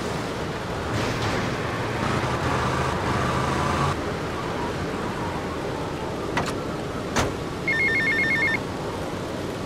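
A payphone rings in GTA Vice City, its electronic trill repeating in short bursts over steady game ambience with distant traffic and surf.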